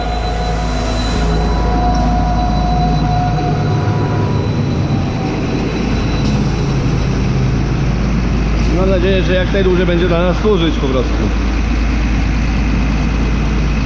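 A Westholt GMA 500 mobile feed mixer runs with a loud, steady low mechanical drone throughout, while someone talks over it.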